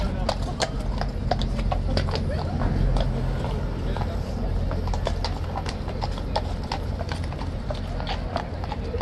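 Steady, rhythmic clip-clop of a King's Guard horse's hooves on a hard surface at Horse Guards, with a low rumble and people talking in the background.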